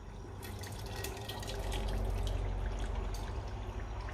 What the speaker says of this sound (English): it's time to add my chili that it's been blended